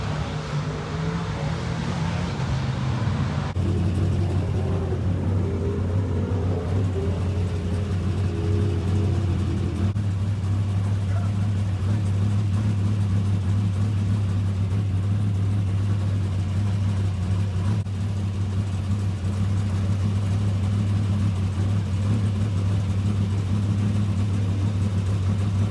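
Race cars run hot laps at Boot Hill Speedway, a dirt oval track in Louisiana. A continuous low engine drone holds throughout, sounding moderately distant, with a louder passing rumble early on.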